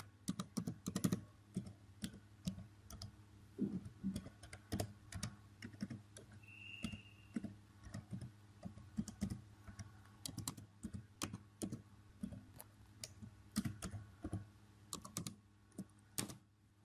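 Someone types on a computer keyboard while working in the Windows 10 registry editor, producing quiet, irregular clusters of key clicks with short pauses between bursts, faint and close with no talking.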